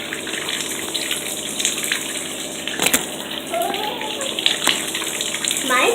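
Water gushing from a tap into a bathtub during a dog's bath, a loud, steady splashing rush with brief knocks and splashes, while a person talks over it.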